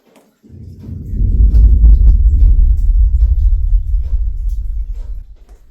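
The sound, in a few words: mining blast of a waste shot in a stope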